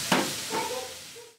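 Mixed vegetables stir-fry in a pan for a bread and noodle snack, a brief close hissing sizzle with a couple of scraping stirs, no talk.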